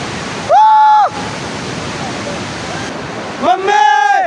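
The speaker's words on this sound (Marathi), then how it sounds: "आता आपण काळ वॉटरफॉलला पोहोचलेलो आहे" The Kalu waterfall at Malshej Ghat roars as a constant broad rush of falling water, with two short high whistling or calling bursts cutting in over it.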